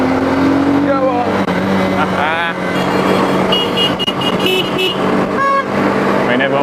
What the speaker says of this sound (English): everyone was sounding the horn